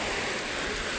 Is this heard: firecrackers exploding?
no